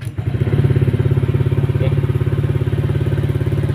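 A repaired Honda Click scooter engine runs steadily at idle on a test, a close, even low putter throughout, with a brief spoken word at the start.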